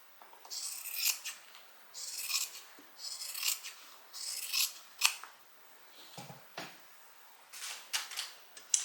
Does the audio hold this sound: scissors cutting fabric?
yes